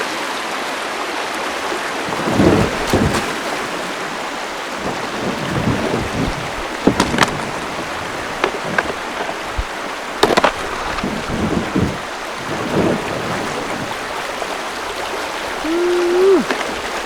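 A kayak runs through river rapids, with continuous rushing, splashing water filling the scene and intermittent knocks and thumps of the hull and paddle over the steady roar.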